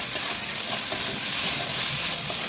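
Chicken pieces fry and get stirred in hot oil spiced with chili and turmeric for chicken kosha, a close, continuous loud sizzle with faint stirring and no talking.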